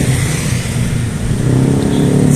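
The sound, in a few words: vehicles passing on a city street at night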